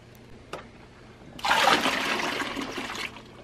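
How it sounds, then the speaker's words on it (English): Hot water pours into a bucket being filled for dyeing canvas sneakers, a loud gushing splash that starts abruptly and runs steadily for about two seconds before cutting off, preceded by a small knock. "So here we have the first bucket of hot water."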